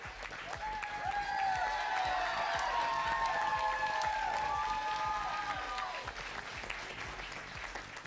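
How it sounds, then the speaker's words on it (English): A crowd at a Jefferson versus Westmoor quiz match claps steadily for the Jefferson coach, with dense, sustained applause and some whoops filling the room before it begins to thin out toward the end. "would you all put your hands together for the Jefferson coach"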